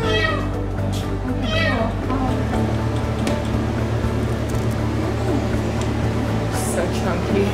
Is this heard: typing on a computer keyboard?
no